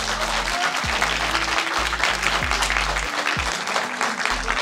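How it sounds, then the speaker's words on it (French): A cinema audience applauding, dense sustained clapping loud and close throughout, with a low droning tone underneath. "j'aimerais vraiment qu'on puisse applaudir hyper fort le White Cinema pour ce qu'ils permettent de se faire aujourd'hui"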